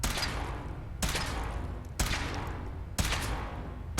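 Weapon fire from a power-armor suit test in the video game Fallout 4, four loud, even booming shots spaced about a second apart, each with a long rumbling tail and no talking over them.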